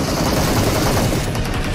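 Dense, rapid gunfire fills the whole short span, a loud continuous crackle of overlapping shots with no gaps or voices.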